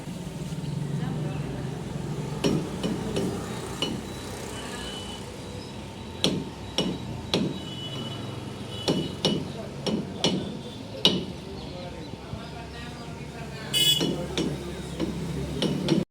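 Goat fat being chopped into small pieces for a chutney, the knife striking a board in scattered sharp knocks and short bursts, with talking going on over much of it.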